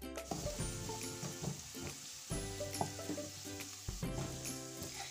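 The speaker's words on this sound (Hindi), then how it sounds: "इसमें मैं डाल रही हूँ 1 छोटी बारीक कटी हुई प्याज। इसको मैं 1 मिनट के लिए इसमें फ्राई करूंगी" Finely chopped onion fries in oil in a pan with a low, crackling sizzle, interrupted by several clattering stirs and utensil knocks; quiet overall and without speech.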